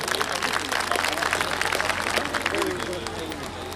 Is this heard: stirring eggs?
no